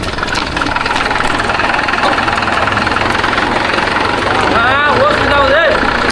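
A vehicle engine runs loudly and continuously nearby while hauling a submersible pump motor up out of a well, a steady low rumble with a voice briefly heard near the end.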